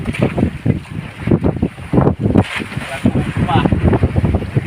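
Strong amihan wind gusting over a boat at sea, rough buffeting roar in uneven bursts close to the microphone, with voices partly heard beneath.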